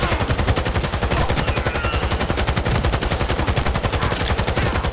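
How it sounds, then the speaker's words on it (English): Rapid automatic gunfire from a gun in the Cyberpunk 2077 video game, loud and continuous, a dense stream of evenly spaced shots with no pauses. "Got the recoil on this thing. Oh! That gun is terrible."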